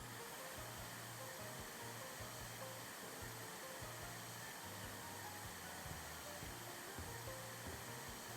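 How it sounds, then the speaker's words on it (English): A vacuum cleaner runs in House Flipper 2, a steady unbroken motor drone with broadband hiss that holds at an even level throughout, with no talking over it. "All right, vacuum."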